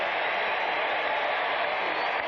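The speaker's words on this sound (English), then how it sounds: "And the crowd applauding Buddy Ryan's defensive team's effort." A stadium crowd at a 1986 NFL game between the San Diego Chargers and the Philadelphia Eagles applauds in a steady, distant wash of clapping and crowd noise, fairly faint and unbroken throughout.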